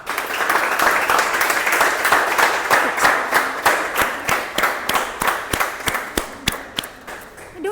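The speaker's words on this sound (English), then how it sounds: "Applause must go on, everybody." An audience applauds at a Toastmasters club meeting: dense, loud clapping at first that thins into scattered, separate claps fading toward the end.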